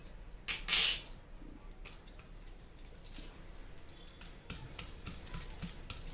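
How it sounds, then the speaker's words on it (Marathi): Garlic cloves being crushed for lasuni methi: a bright metallic clink, then a string of light, irregular knocks and taps that grow busier toward the end. "लसूण घेतलेला आहे 1 पाकळ्या, ते आपल्याला जरा ठेचून घ्यायचे आहेत ह्याच्यात"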